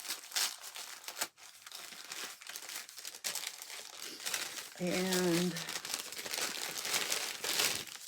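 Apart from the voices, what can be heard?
crinkling paper bag of advent calendar being opened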